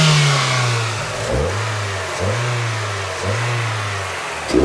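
A Mazda MX5 engine revs repeatedly through a modified air filter, with loud induction roar rising and falling in about four close bursts with no talk.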